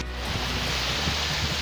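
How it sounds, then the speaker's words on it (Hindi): Surf on Chakratirth Beach in Diu rolls in as a broad, constant wash of waves, fairly close and steady, with a breezy rushing texture and no voices. "अभी हम चक्रतीर्थ बीच पे हैं।"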